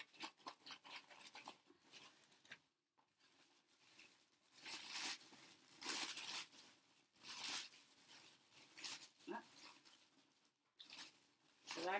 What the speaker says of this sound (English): So I apologize for the crinkling.